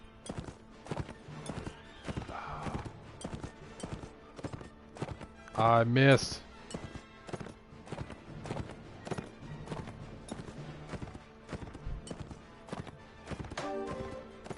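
Horse hooves galloping in the PS4 game Mount & Blade: Warband during lance jousting, a steady rhythmic clip-clop running throughout with a brief burst of impact noise midway; someone speaks briefly over it.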